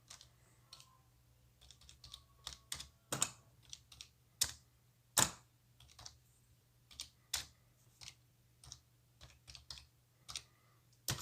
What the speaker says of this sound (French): On va taper dans la barre de recherche ballon de foot simple.